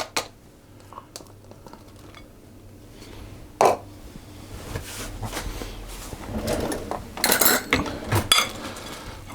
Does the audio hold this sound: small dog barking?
no